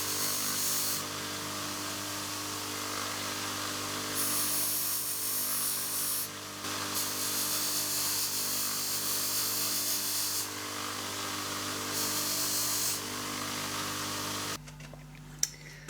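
Tin toy car parts are polished against a solid nylon buffing mop on a motor-driven wheel, giving a steady loud motor whine with rougher friction rising in repeated bursts before the machine winds down near the end.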